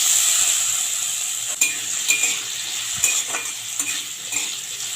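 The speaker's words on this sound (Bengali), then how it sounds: "এবারে কেটে ধুয়ে রাখা আলুটা দিয়ে দিচ্ছি।" Cut, washed potatoes sizzle in a pan of hot oil tempered with bay leaf and dried chili, a steady frying hiss with a few sharp stirring scrapes and clinks near the end, no voices.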